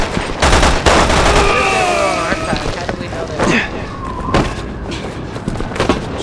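Gunfire in Resident Evil 6: rapid volleys of loud, sharp shots with thuds and impacts, mixed with game effects, while people talk over it.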